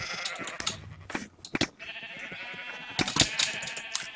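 Sheep bleating in a Minecraft Sheep Quest minigame, several short nasal bleats scattered over four seconds, some overlapping, with clicky game sounds in between and no voices.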